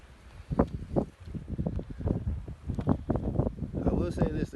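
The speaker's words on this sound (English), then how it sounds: "Excuse the audio. It is a very windy day out here in New Mexico." Gusty wind buffets the microphone with low rumbling thumps and rushes on a very windy day in the New Mexico countryside, mixed in with someone talking outdoors.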